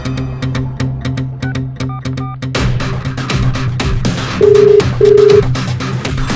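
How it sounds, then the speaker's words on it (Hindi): Two short electronic phone ringback tones sound in succession over background music, fairly loud and close. "लेकिन पहले केदार को फोन कर और उसे यहाँ बुला"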